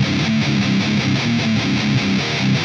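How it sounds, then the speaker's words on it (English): A high-gain distorted guitar riff from an amp plugin with a distortion pedal plays a chugging, rhythmic low-string figure, loud and dense throughout, with repeated palm-muted pulses and no voices. "Get your guitar amp VST and find a high gain amp, then add a distortion pedal and crank it up just a little bit."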